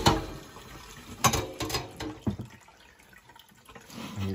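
Water drips and splashes from two skinned coyotes just taken out of a spinner, a few close wet drips and splatters that thin out and grow sparse toward the end.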